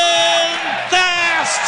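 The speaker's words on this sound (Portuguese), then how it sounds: "a torcida vibra" Football crowd roaring in a stadium as Ponte Preta fans celebrate a goal, with loud yells and whoops rising in swells over a continuous mass of voices.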